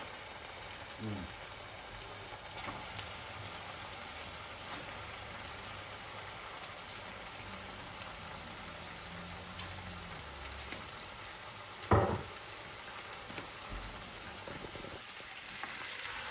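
Pork meat frying with tomato in a pan, a steady soft sizzle and crackle throughout, with a brief louder clatter midway and faint background noise.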